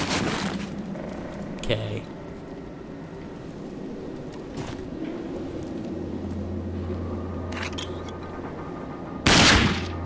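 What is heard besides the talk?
sniper pistol shots in the video game Rage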